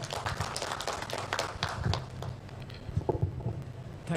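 An audience at a university collaboration ceremony claps in scattered, moderately faint bursts, with individual hand claps audible rather than a full roar.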